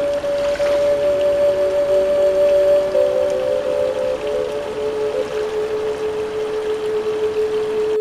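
River water flows steadily in a continuous soft wash, with a steady tonal whine running over it and no voices.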